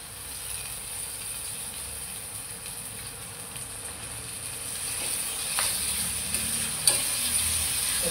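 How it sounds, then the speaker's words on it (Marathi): Chopped tomatoes fry in a pan for a quick sprouts curry, giving a steady, close sizzle that runs evenly throughout, with a few faint scrapes and a small clink near the end. "टोमॅटोला परतून घेतलेला आहे"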